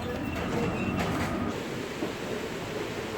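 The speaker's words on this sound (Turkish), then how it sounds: "Metroya giriyoruz." A metro train in the subway rumbles steadily with rolling wheel and carriage noise and a brief metallic hiss early on, a continuous close drone filling the space.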